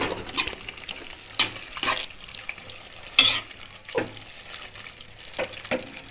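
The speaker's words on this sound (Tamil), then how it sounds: "இப்போ அந்த சாந்தோட உருளைக்கிழங்கை நல்லா மிக்ஸ் பண்ணிட்டோம்." A spoon stirs mashed potato masala in a bubbling pot, giving scattered scraping and sloshing strokes with brief sharper clinks against the pot, close and fairly quiet.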